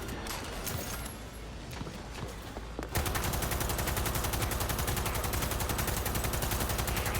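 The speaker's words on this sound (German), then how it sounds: "Also selbst mit einer Waffe, die quasi selbst schießt, beziehungsweise selbst zielt, schieße ich daneben." A self-aiming smart gun in Cyberpunk 2077 fires a few scattered shots, then breaks into a loud, rapid, unbroken stream of automatic fire that runs to the end.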